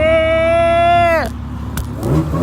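A supercharged car at a car meet gives a loud, rising high-pitched supercharger whine with engine rev that holds steady, then drops away sharply partway through, leaving the car idling with crowd noise.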